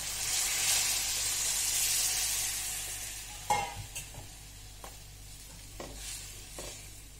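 Hot water poured into mung dal cooking in a pot, a broad hissing sizzle fading out, then a few sharp clinks and stirring knocks, fairly faint.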